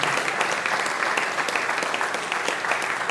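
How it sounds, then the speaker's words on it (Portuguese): Church congregation claps in a steady, full round of applause, loud and continuous throughout with no talk over it. "que você desse uma linda salva de palmas a Deus"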